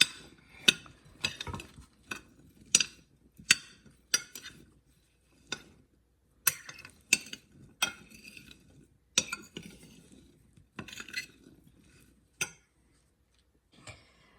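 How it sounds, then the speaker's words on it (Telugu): Spoon clinks and scrapes against a bowl while blueberry pie filling ingredients are mixed, a string of sharp, close ticks in irregular rhythm with quiet pauses, no talking. "ఇవన్నీ మిక్స్ చేద్దాం"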